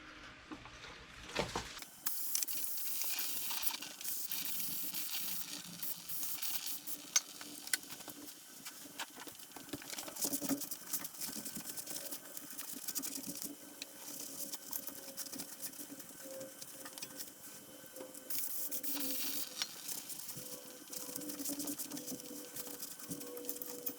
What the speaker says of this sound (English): we'll spray all this down with brake clean